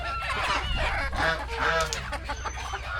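Ducks call and honk in a home backyard, a busy overlapping flock chattering close by with repeated nasal quacks that keep going throughout.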